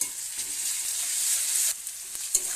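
Chopped garlic frying in oil in a pan, a loud steady sizzle that dips briefly near the end, with a faint stirring tap, no talk.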